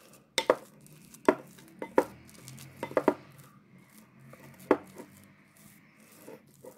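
A spoon stirs Nescafe hair-dye paste with turmeric in a bowl, making irregular clacks and scrapes against the bowl, several sharp knocks followed by softer rubbing, close up with no talking.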